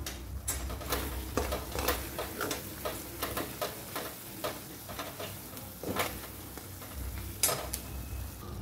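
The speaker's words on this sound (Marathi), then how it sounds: "आपला मसाला छान परतून झालेला आहे।" Spice masala sautés in a pan with turmeric for Buldhana-style mirchi chi bhaji. A soft, low sizzle runs under repeated close spoon scrapes and stirring knocks, fairly quiet throughout.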